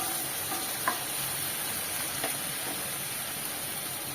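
Chopped tomatoes sizzle steadily in hot oil in a pan for brinjal rice, with a few soft scrapes and stirs of a spoon breaking through the continuous frying hiss.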